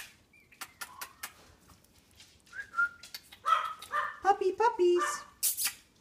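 Puppies let out high-pitched yips and whiny barks, irregular and close, with whistling cries mixed in.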